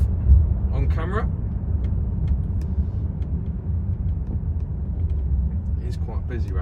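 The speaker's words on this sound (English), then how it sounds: "So finally, we are out in the Evoque. I just thought I'd do a little drive on camera." Range Rover Evoque driving through Stamford in Cambridgeshire, a steady low engine and road rumble filling the cabin throughout, with a person talking over it.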